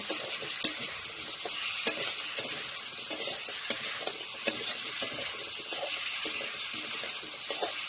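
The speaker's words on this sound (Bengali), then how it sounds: "ভালো করে ভেজে নেব" Potato and tomato curry frying in a pan, a quiet steady sizzle with occasional light clicks and scrapes of a stirring spoon, heard close up and without speech.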